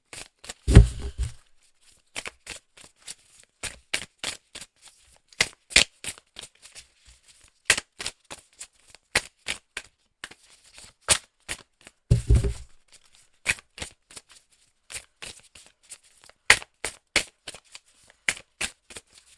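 Oracle cards are shuffled by hand in repeated quick riffling bursts with short gaps between them, close and clear, with a couple of heavier thumps as the deck is squared. No one speaks.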